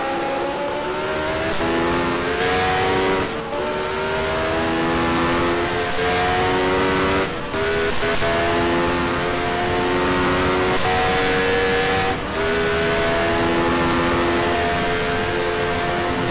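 Race cars from the 1971 Formula 1 season at Monza scream through rising gear changes at full throttle, with engine pitch climbing in repeated sweeps and brief breaks at each shift, loud and close.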